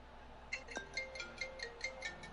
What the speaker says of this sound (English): Oh, hang on, my phone's ringing.